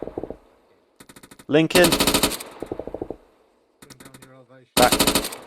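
Arma 3 machine gunners on a milsim training course fire rapid, rattling bursts that stop and start. Clipped radio-style voices speak between and over the volleys.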